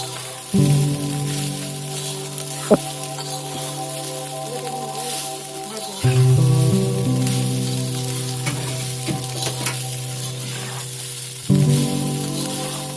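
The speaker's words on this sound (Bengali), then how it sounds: "এবার এই পাস্তা সিদ্ধগুলোকে দিয়ে দিতে হবে মশলার উপরে এবার ভালো করে মশলার সঙ্গে পাস্তাগুলোকে মিশিয়ে নাড়তে হবে" Boiled pasta stirred into spices in a frying pan for egg pasta, a steady close sizzle with scraping stirs and occasional louder surges as food is moved around.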